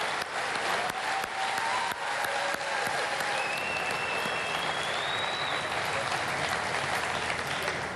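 Sustained audience applause at the ArtPrize 2013 award show, a dense, even wash of clapping from a large crowd with a faint whistle or two, continuous throughout.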